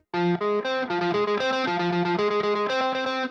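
Distorted electric guitar playing arpeggios, each note picked cleanly and distinctly separated, in a steady even rhythm.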